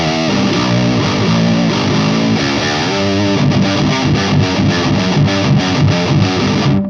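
Heavily distorted electric guitar through a Fryette Deliverance high-gain amp with the tube screamer switched off, playing loud, thick doomy riffs that turn into rhythmic chugging stabs partway through.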